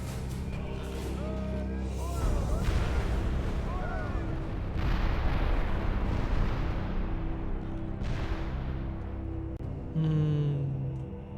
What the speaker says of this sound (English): So start firing lovely cannonballs at the enemy.